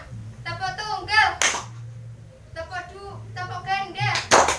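Children clap once in unison in a classroom, a single sharp burst between stretches of an adult teacher's speech, with a second clap near the end.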